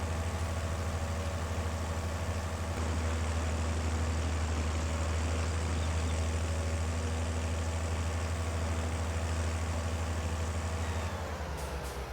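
A tractor engine in the farming game Farming Simulator 22 idles and drones steadily at low pitch, a constant mechanical hum with a slight change near the end.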